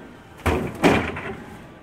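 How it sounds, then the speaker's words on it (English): Pull-out drawer of an LG 30 cubic foot InstaView Door-in-Door stainless steel refrigerator sliding, with two quick sliding thumps in close succession, near and moderately loud, without speech. "And the pull-out drawer would also come out"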